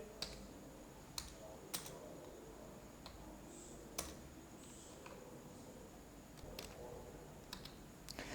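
Sparse keystrokes on a computer keyboard, entering a backslash escape sequence while writing C code, with isolated quiet clicks spaced irregularly over a low steady hiss.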